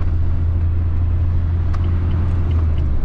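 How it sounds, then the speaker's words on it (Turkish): A 12-year-old car, a 2012 model, driving along, with a steady low engine rumble and road drone holding at constant loudness throughout and no talking. "Ama gidiyor işte araba."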